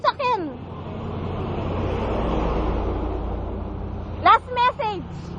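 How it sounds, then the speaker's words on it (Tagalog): A vehicle passing on a road at night, a broad, steady rushing rumble that swells and fades over several seconds, with short bursts of speech at the start and end. "Oy, sasakyan."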